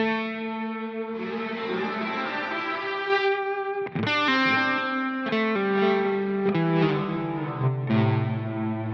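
Electric guitar played through a Line 6 Helix with heavy delay and reverb mix, sustained distorted chords and notes ringing into washy echoes, with fresh attacks every second or so smearing into the tail.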